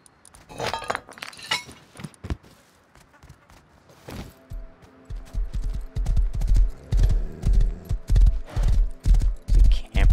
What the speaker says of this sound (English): There is a horse here I could use.